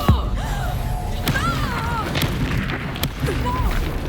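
Spell-combat explosions from the Reductor curse in Hogwarts Legacy crack and thump in quick succession amid dense battle noise, with sharp bursts and whooshing magical tones, loud and close, and voices shouting over the fray.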